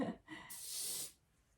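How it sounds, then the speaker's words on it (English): A short burst of Finesse hairspray from an aerosol can, a close hiss lasting about half a second and ending abruptly, after a faint breath, in a quiet room. "I'm going to spray a little bit of hairspray."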